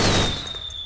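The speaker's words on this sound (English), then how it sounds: "Then I'll take him out using the grenade launcher." Grenade launcher firing in the Metal Gear Solid 4 video game, a single loud burst that fades over under a second, with a thin high ringing tone trailing beneath it.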